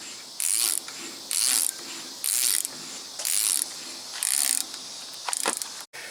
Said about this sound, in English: I got that ratcheting nut off of there